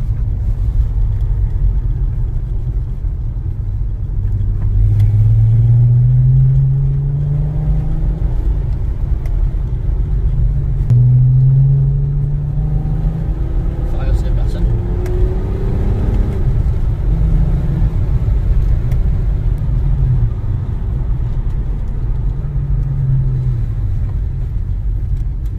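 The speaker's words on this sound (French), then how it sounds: "On entend bien le moteur." Volkswagen Golf 4 with a VR6 engine, heard from inside the car as a steady, loud low engine rumble with several rising rev sweeps, running continuously and without talk.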